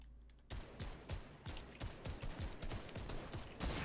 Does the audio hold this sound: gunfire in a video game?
yes